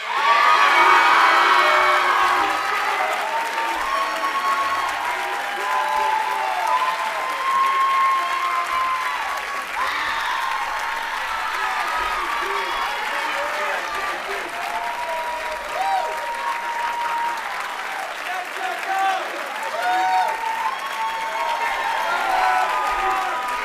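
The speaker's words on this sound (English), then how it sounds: "Let's give another round of applause for Dorothy and Jacob" A large audience at a school commencement ceremony applauds for award winners, with sustained, dense clapping that stays loud throughout, plus scattered cheers, whoops and voices in the crowd.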